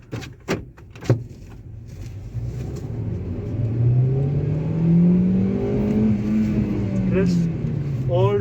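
A 2015 Hyundai Grand i10 Asta engine revs up hard toward its 7000 RPM redline, a rising whining drone that climbs steadily in pitch over several seconds, preceded by a few sharp thuds and heard from inside the car.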